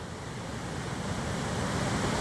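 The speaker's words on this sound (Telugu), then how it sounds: "చూడండి ఏ విధంగా అలలు పైకి వస్తున్నాయి" Waves surge in an overflowing canal of the Musi river at Chadarghat in Hyderabad, a dense rushing wash of water that builds slightly over a couple of seconds, mixed with wind noise.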